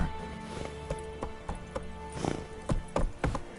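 Roach, a horse in The Witcher 3, gallops with clear, uneven hoof clip-clops in a quick rhythm over a steady game soundtrack backdrop, close and moderately loud.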